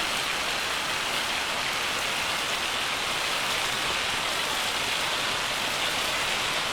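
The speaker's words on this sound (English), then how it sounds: "gotta love the rain" Heavy rain falls in the Farming Simulator 25 farming game, a loud, dense, unbroken hiss of downpour that continues steadily throughout with no talking.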